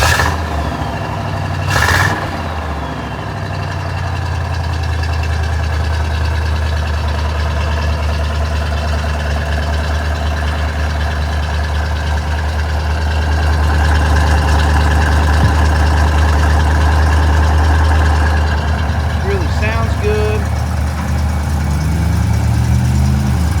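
A 1968 Oldsmobile 442's 400 V8 engine cranks and catches, then settles into a steady, deep idle with a low rumble, swelling slightly as it runs on.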